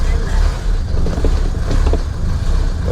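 An oldtimer car engine with a leaking injection pump idles loudly and unevenly, its low rumble rising and falling in a sawing rhythm close by.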